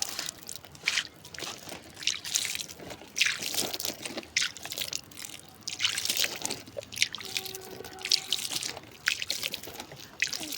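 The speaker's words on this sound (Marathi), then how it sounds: "आता इथे पाणी टाकून घेऊया थोडंसं" Water pours and splashes in uneven bursts onto garden soil freshly sown with fenugreek, with soft trickling and dripping between the gushes.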